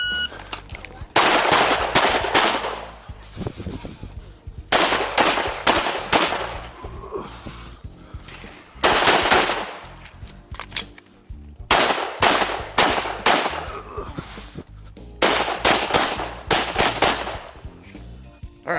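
Rapid strings of pistol shots ring out during an IDPA match stage, four separate volleys of close, sharp reports with short quiet gaps between them.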